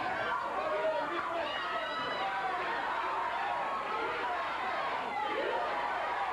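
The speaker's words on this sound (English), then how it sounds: "They're chanting USA, USA." A wrestling crowd at a 1986 CWA Memphis championship show roars steadily in a large arena, a dense, continuous wash of voices and chatter with no break, the rhythmic chant blurred into the noise.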